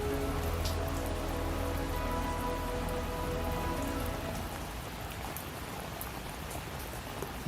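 Heavy rain pours steadily near an abandoned old mansion in an animated Hindi story, a dense constant hiss of drops on surfaces with no voices, easing slightly toward the end.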